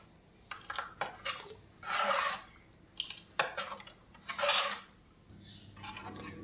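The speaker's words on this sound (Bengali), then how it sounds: "আমি আবারও নেড়ে ছেড়ে দেব।" Thin madhu bhat, a watery rice pudding, stirred in a pot, giving soft intermittent scraping and splashing bursts of spoon against metal, moderately close with quiet gaps between strokes.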